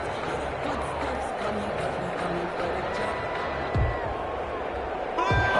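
Stadium crowd roar in a Madden 21 football video game, home fans in a divisional playoff game, a steady, dense wash of crowd noise with occasional thuds and rising cheers near the end.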